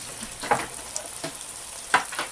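Sausage frying in a pan for a pan pizza, with a steady sizzle and a few sharp stirring or scraping clacks close by.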